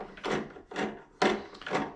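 Phillips screws are backed out of a door latch by hand, giving four short gritty scraping turns of metal against wood, close and fairly quiet with no talk.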